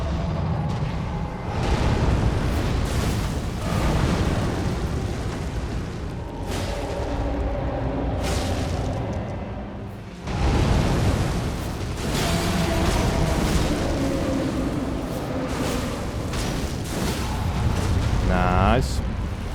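A fire chant incantation in the Elden Ring video game, with roaring bursts of flame and booming impacts rising and falling over a dense battle din, plus a sharp crackling flourish near the end.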